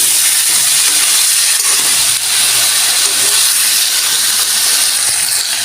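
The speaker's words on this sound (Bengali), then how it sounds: "ভালো করে ভাজা ভাজা করে নিব" Ginger, cumin and garlic paste fries in a hot pan, a loud, constant close-up sizzle and hiss that runs unbroken with no voices.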